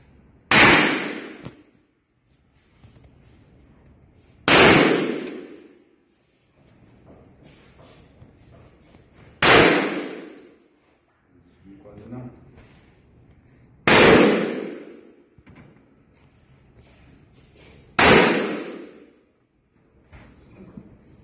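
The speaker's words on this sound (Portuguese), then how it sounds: "faça seis disparos de dentro do carro, mirando em três alvos" Five or six sharp, loud gunshots from inside a car through the windshield, each a single blast with a short decaying tail, spaced a few seconds apart with quiet gaps between them.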